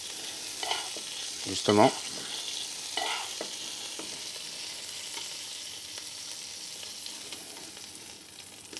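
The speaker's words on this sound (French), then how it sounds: "On vient vraiment colorer toutes les faces de la crevette." Shrimp searing in a pan with olive oil or butter, giving a steady soft sizzle with a brief louder stir near the start; a short spoken word occurs.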